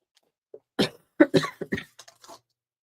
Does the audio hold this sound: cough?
yes